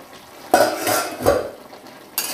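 A pot lid lifted off vegetables boiling with potatoes for a Bengali vegetarian dish: a sudden metallic clatter and scrape, a brief hiss of steam, then another knock near the end.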